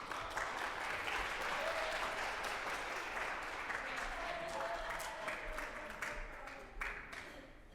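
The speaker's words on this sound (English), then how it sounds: "Please give me a round of applause to welcome Marianne to this event." Crowd at a World AIDS Day event in Iowa City applauding to welcome presidential candidate Marianne Williamson, a dense sustained wash of clapping and cheering lasting several seconds before tapering off.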